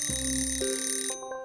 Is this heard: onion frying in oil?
no